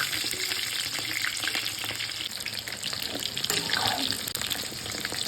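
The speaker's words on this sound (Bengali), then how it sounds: "এবার কিন্তু পটলগুলো ভাজতে দিয়ে দিলাম" Pieces of pointed gourd (potol) fry in hot oil, with a dense continuous sizzle and crackle that stays close and loud throughout, with light clatter of stirring mixed in.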